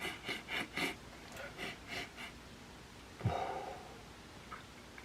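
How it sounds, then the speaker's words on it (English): A person takes several quick, close sniffs at a pair of Nike Air Zoom Pegasus running shoes, in short bursts followed by a softer rustle, with no talking. "Now let's do some sniffing test."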